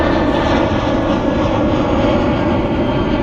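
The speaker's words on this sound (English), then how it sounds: "The plane was interrupting." An airplane passes over near Zurich airport, its engine a loud, steady, broadband roar that fills the whole stretch without fading.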